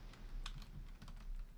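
Quiet, steady typing on a computer keyboard, a quick irregular patter of soft key clicks heard close but faint, with no voices.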